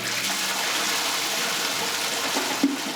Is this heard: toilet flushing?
yes